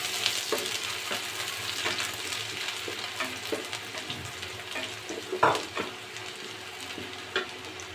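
Garlic, chopped onion and dried red chili sizzle and crackle steadily in hot oil, a continuous close frying hiss with a few sharper pops and stirring clinks along the way.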